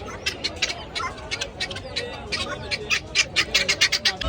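Rapid, close clucking from a rooster at a Sunday market in Ahmedabad, in repeated short bursts that grow denser and louder toward the end, with a voice mixed in.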